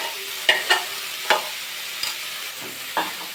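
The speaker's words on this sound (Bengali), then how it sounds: "একটু নাড়াচাড়া করে নেব।" Grated cauliflower, carrot and potato are stirred in a hot pan, a soft steady sizzle broken by several sharp spatula scrapes and taps, close and without talk.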